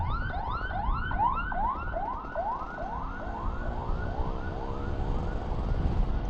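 A wailing ambulance siren sweeps up and down repeatedly, loud and steady throughout over background traffic rumble.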